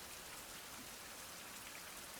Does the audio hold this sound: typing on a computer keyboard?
no